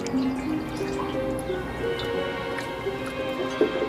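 Water pours from an upper vessel down a pipe into the lower vessel of an ancient hydraulic device, giving close, continuous trickling and dripping with small rising gurgles as it fills.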